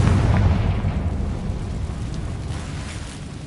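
A spell blast from Bombarda or Confringo in the game Hogwarts Legacy, a loud deep boom that rumbles, then fades slowly over several seconds, heard alone.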